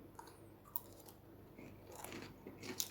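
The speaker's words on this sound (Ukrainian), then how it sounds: "Дійсно, хрумка скоринка." Crisp crunching bites into a breaded chicken crust, a few sharp cracks followed by steady chewing, close up with no talking.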